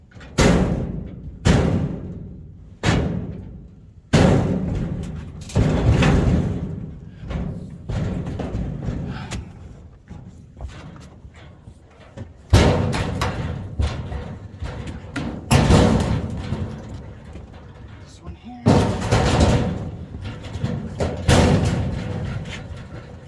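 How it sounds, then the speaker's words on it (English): Heavy doors are opened and bang loudly again and again while scrap metal is loaded, with sharp slams and thuds at uneven intervals and clattering and rattling between them. "Stupid doors opening."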